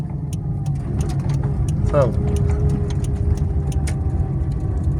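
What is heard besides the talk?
car engine while a learner driver accelerates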